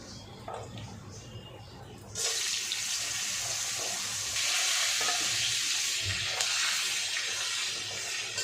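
Potatoes sizzle loudly in hot oil over whole spices, a dense steady hiss that swells after a quieter start and continues without speech.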